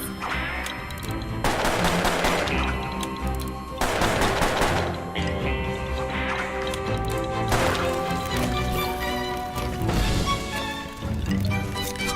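Gunfire in the Puppeteer video game, several bursts of sharp cracking shots separated by short gaps, set against game music and effects.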